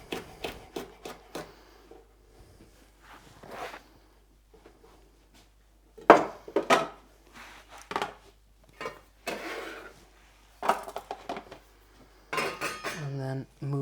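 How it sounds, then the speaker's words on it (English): A knife chops a green and a red chili on a cutting board in a home kitchen, with sharp irregular taps and knocks separated by quiet gaps and several quick bursts of cutting. "I'm just cutting up a green and a red chili"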